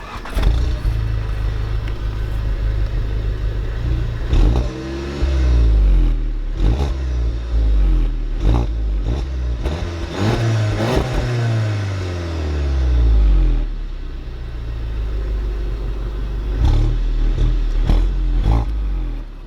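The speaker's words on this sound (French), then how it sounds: "les gens ils verront ce que ça fait une GTI d'origine avec une ligne d'origine" Stock Volkswagen Golf 7 GTI Performance on its original factory exhaust, revving repeatedly: loud rising and falling engine sweeps with crackly blips between, over a steady low rumble, no voices.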